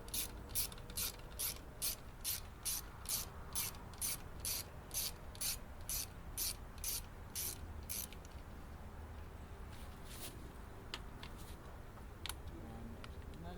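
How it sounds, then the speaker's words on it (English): A ratchet wrench loosens the bolts on a small engine's cover during carburetor repair, loud, even clicking strokes repeating for about eight seconds, then fading into faint scattered rattles and handling sounds. "Let's unfasten this cover."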